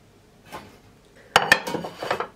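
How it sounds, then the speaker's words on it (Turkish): Stuffed grape leaf rolls set onto a plate, with a few sharp clinks of dishes and cutlery close by and soft handling noises between them, no talking. "Sardıklarımı öncelikle tabağın içine alacağım."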